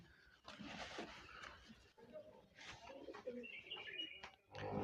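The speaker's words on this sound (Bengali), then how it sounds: "উপরে এই যে বেশ কিছু কবুতরও আছে" Several pigeons perched up high on a date palm farm in Saudi Arabia give faint, soft coos and murmurs through the stretch, distant and quiet, with a few chirps and light rustling mixed in.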